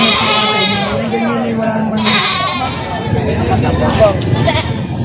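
Goats bleat repeatedly nearby, their wavering cries overlapping with people talking in an outdoor livestock market in the Philippines.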